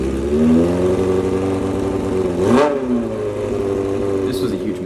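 Motorcycle engine, running after an engine swap, idles with a loud steady rumble and gives one sharp rev midway before settling back to a rough idle.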